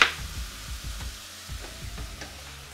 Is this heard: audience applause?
no